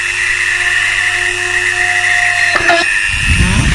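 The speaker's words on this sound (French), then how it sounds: "Ou alors, on utilise une petite perceuse." A small electric drill whines steadily at high pitch while boring holes in a wooden board, loud and close, its tone dipping briefly before a rougher burst near the end.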